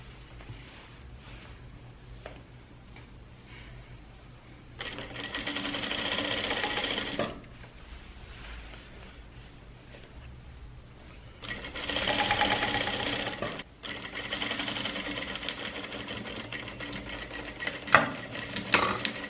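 A straight-stitch sewing machine sews a trapeze dress with puffed sleeves, running in two sustained bursts of rapid stitching separated by quiet pauses.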